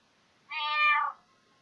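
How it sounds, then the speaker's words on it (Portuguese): A single clear cat meow, close and fairly loud, lasting under a second against near silence. "O som do miado do gato."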